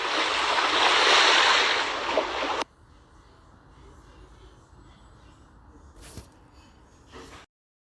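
Waves and rushing wind on a boat trip at sea off Crete: a loud, steady roar of wash for nearly three seconds, then a sudden cut to a quieter low hum with a few brief bursts.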